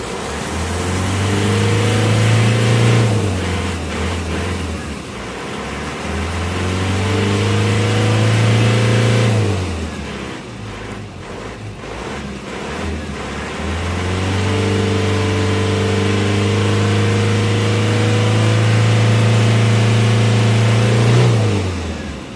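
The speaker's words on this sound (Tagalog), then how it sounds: "tapos start ko ulit itong makina." An Isuzu Crosswind engine, its muffler pipe cleaned of carbon during maintenance, runs loud and close, revving up and down in three long rising and falling sweeps over a steady idle.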